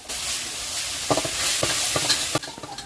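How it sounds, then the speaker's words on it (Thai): Curry-powder shrimp stir-fry vegetables with oyster sauce and a little sugar sizzle in a wok, a constant close hiss punctuated by sharp spatula knocks that drop away near the end. "หลังจากนั้นก็ผัดทุกอย่างให้เข้ากันอีกสักรอบนึง"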